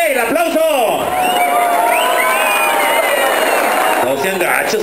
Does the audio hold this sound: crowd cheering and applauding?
yes